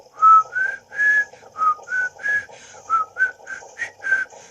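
Someone whistles a short melody, a series of clear, bright notes with brief gaps, close and alone against a quiet background.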